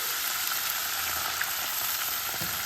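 A spice paste with ground ginger and a splash of water sautés in a pan, giving a continuous, dense, close hiss of frying that stays level and uninterrupted.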